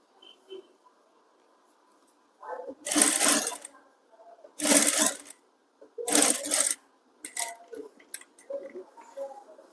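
A sewing machine stitches thread piping onto a blouse in three loud, steady bursts of a few seconds each, separated by pauses filled with quieter handling of the cloth.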